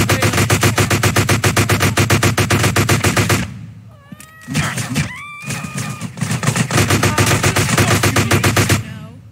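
Rapid automatic gunfire from the video game GTA San Andreas, loud dense bursts that pause briefly midway among short whistling game sounds, then resume and keep going.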